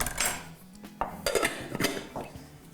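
Cold rice is mixed in a saucepan with a utensil, giving several close scraping clinks and knocks of metal against the pan in an irregular rhythm with no talk.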